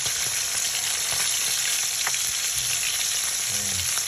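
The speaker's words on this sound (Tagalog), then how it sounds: "piniprito ko na siya guys bago natin siya i-steak" Marinated tilapia fish frying in hot oil, a steady loud close sizzle running throughout with faint crackles and no talk.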